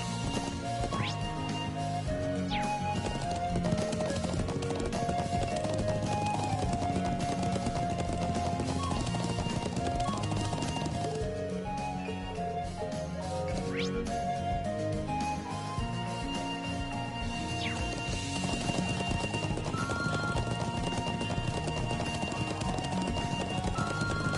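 Horse hooves galloping in the Trails of Cold Steel video game: a continuous rhythmic clatter of hoofbeats under a layer of game music, with occasional whinnies and steady pace throughout.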